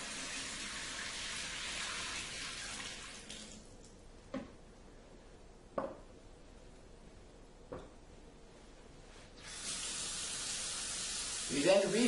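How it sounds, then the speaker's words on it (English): Water poured out of a bowl after rinsing lettuce makes a broad hissing gush at first, then quiets with a few small splashes before a second steady pour. "spill this water out."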